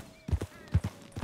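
Hooves clip-clop from a horse in Red Dead Redemption 2, several distinct clopping steps in an uneven gait, close and fairly clear against a quiet background.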